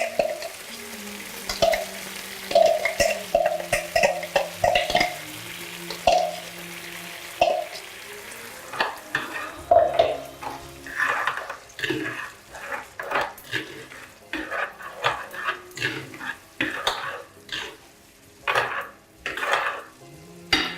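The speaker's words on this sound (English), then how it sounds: "add in the chamula paste that you've marinated the fish in to the tomatoes and the onions" Chermoula fish marinade paste being added and stirred into tomatoes and onions in a pan for a fish tagine, with close scraping, clinking utensil taps and soft sizzling throughout, no talking.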